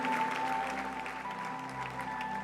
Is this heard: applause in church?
yes